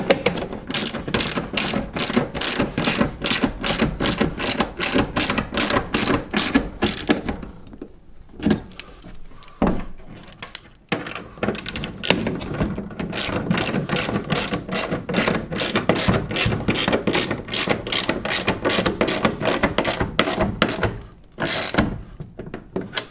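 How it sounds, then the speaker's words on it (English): Half-inch socket wrench ratcheting the clamps of a Rough Country tonneau bed cover on a Toyota Tacoma: rapid, steady, close clicking strokes that run almost continuously, broken by a few short pauses. "now you take your half inch socket wrench or just a regular wrench, and you're just going to hand tighten."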